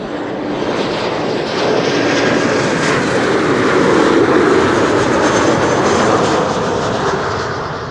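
A KLM airliner arriving from Berlin comes in to land at Schiphol Airport with a loud, broad, steady engine roar that swells slightly and then eases, with no voices.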